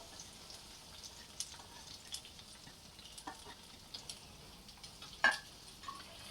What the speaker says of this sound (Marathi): आता आपण त्याच्यामध्ये हे कांदे घालून घेऊया